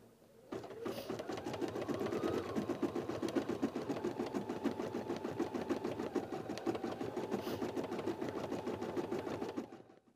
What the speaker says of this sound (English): my design is finished stitching, so I'll remove the hoop from the machine